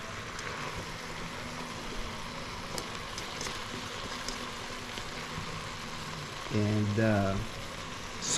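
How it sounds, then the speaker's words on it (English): Okra and eggplant crackle and sizzle faintly in a pan of pinakbet, a continuous hiss with a brief burst of a voice speaking over it near the end. "we're gonna add are the okra and the eggplant. So we're gonna add that. And again, just stir it to get the flavor."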